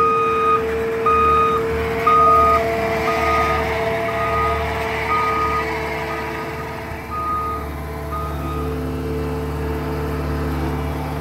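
A tracked machine works dirt, its engine rumbling steadily while a backup alarm beeps in a regular rhythm for several seconds, with no voices.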